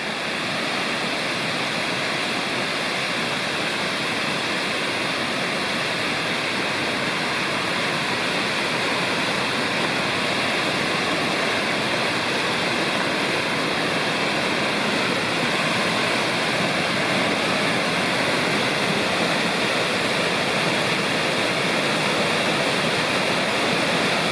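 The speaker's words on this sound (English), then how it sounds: "Here we are approaching Mouse Falls. It's on Mouse Creek, which flows into Big Creek." Mouse Falls on Mouse Creek in the Great Smoky Mountains pours after recent rains, a loud, unbroken roar of rushing water heard close by, steady and broadband from start to finish with no voices.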